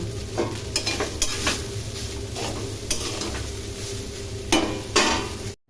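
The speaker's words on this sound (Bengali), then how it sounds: "পাস্তাটা ভালো করে ভেজে নেব" Pasta fries and is stirred in a hot pan: continuous sizzling with several sharp spatula scrapes and clinks against the metal, close up, no voices.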